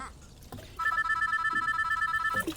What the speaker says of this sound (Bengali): হঠাৎ ফোনটা বেজে উঠল।